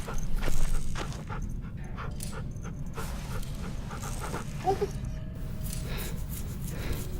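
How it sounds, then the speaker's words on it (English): A dog named Rosie in The Walking Dead video game pants rapidly and steadily, with a faint whimper midway, close and moderately loud against a low background hum. "Hey, big scary dog."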